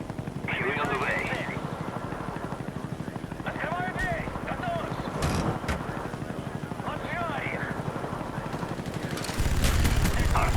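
Call of Duty gunfire crackles throughout a busy battlefield soundscape, with a helicopter drone, scattered bursts and a louder blast near the end, under game radio chatter.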